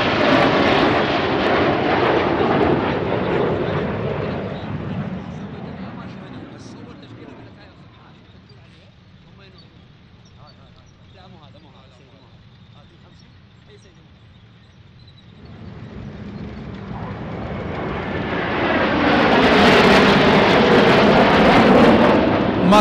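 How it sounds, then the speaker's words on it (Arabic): Iraqi Air Force military jets fly over an army anniversary parade, a loud roaring engine rumble that fades to a distant hum midway, then swells back with a close, whooshing pass at the end, under a narrator's voice. "طائرات القوة الجوية العراقية تشارك في استعراض عيد الجيش الأغر وتزين سماء الاحتفال"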